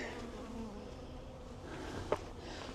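Honey bees from a 12-year-old hive being removed and relocated buzz in a steady, dense drone close by, with a faint brief tap partway through and no talk.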